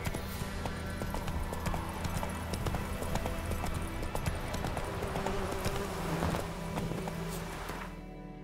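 In The Witcher 3, the horse Roach trots with steady, rhythmic clip-clop hoofbeats close and clear, accompanied by a low background hum and a soft vocal at the end.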